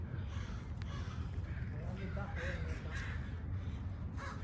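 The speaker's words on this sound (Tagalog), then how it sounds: "Ito may ibon, oh. May ibon." A crow caws a few times at a distance in a park near a swampy area, its calls rising over steady outdoor ambience and wind while people talk nearby.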